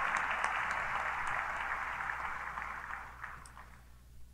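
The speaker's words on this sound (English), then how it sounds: "Please recognize her and the excellence she represents with your applause." Graduation ceremony audience applauding an undergraduate at a university commencement, a brief steady wash of clapping that tapers off within a few seconds.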